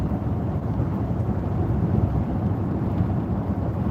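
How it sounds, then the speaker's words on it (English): A thunderstorm near Kearney, Nebraska rumbles in a low, continuous roll that stays steady and fairly loud throughout, with no voices. "So nice, cooling thunderstorm."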